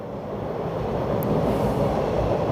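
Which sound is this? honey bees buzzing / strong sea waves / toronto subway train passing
toronto subway train passing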